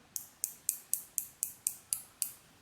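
Nine crisp, evenly spaced clicks from the rotating bezel of a Spinnaker Vintage Wreck automatic dive watch (SP-5051-04), a 90-click unidirectional bezel, sharp and close in a quiet room with no talking.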